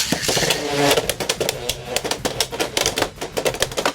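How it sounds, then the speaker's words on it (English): A Beyblade X Driger S spinning top in a test spin, a close rattling, clattering whir with rapid irregular ticks as it collides and skitters across a plastic stadium, loud and continuous. "Now usually with these test spins I only do one, but I'll do another one just for the sake of it."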